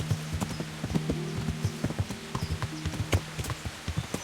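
Horse hooves clip-clop in a quick, steady galloping rhythm in the medieval video game Kingdom Come: Deliverance, close and clear over a constant background rumble, with no voices.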